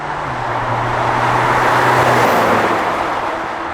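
A Porsche Macan GTS with an ArmyTrix exhaust, valves closed, hums with a steady, muffled drone, a low, even rumble with broad road noise, no sharp revs.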